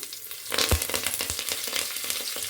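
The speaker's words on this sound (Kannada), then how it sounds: "ಎಣ್ಣೆ ಬಿಸಿಯಾಗಿದೆ ಇವಾಗ ನೋಡಿ ಸಾಸಿವೆ ಮತ್ತು ಜೀರಿಗೆನ ಹಾಕ್ಕೊಳ್ತಾ ಇದ್ದೀನಿ" Mustard seeds and cumin hit hot oil and sizzle loudly up close, with sharp crackles and pops scattered over a steady frying hiss; no one speaks.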